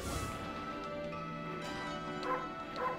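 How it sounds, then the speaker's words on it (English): A wolf barks in the Okami HD video game, giving a few short yips over a steady musical backdrop at moderate loudness. "I can bark, as always."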